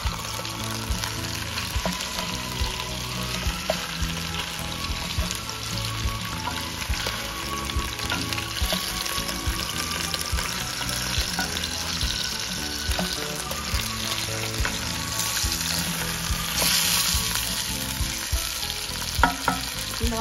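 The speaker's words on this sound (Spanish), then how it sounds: "En lo que se termina de sellar el pollo, vamos a pelar las zanahorias." Chicken sears in a pan for a stew, a continuous close sizzle and crackle with occasional scraping and stirring noises and no voices.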